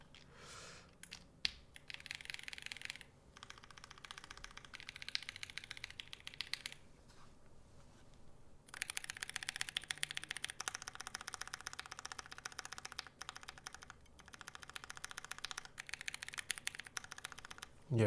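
Mechanical keyboard switches with keycaps fitted, typed in steady bursts of close, crisp clacking with brief pauses between runs.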